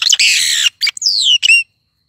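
A small songbird perched on a man's shoulder in the countryside gives loud, close, sharp squawking chirps in several quick bursts, with a rising whistle-like call, and no talking.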